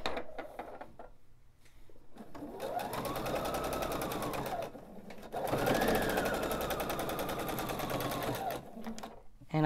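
A sewing machine pieces quilt blocks into sets in two sustained runs of fast rattling stitching, close and fairly loud, with a short pause between bursts and quieter handling before and after.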